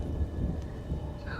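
Low thunder rumbles beneath a steady wash of rain in an audio drama scene, rolling continuously and fairly loud with a brief brighter swell near the end.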